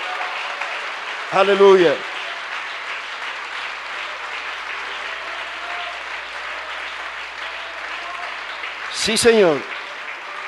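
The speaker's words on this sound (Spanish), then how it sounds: "Un aplauso al jefe." Applause from a church congregation during a sermon, with short loud bursts of clapping, mixed with shouted praise and spoken voices.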